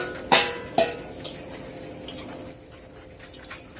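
A utensil scrapes and clinks against a pan as a spice paste of chili and coriander is stirred and sautéed with potatoes, with a few sharp knocks followed by softer rubbing, close and alone.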